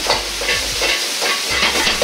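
Black fried rice being stir-fried in a wok after a soy sauce and caramel mix is added, a loud continuous sizzle with rhythmic scraping and tossing strokes close up, no voices.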